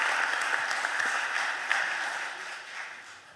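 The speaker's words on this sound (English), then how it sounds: "please give them a round of applause for coming to join us here" An audience applauds students at a budget hearing, a dense round of clapping that holds steady and then tapers off slightly near the end, with no talk over it.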